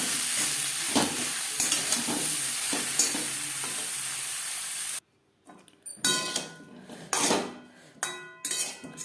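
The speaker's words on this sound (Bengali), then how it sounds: "লবণ হলুদ দিয়ে আলু ফুলকপি 3-4 মিনিট হালকা করে ভেজে নেব" Potato and cauliflower fry lightly in a wok with salt and turmeric, giving a steady close sizzle for several seconds. After a brief silence, spoon-on-pan stirring clatters in loud bursts.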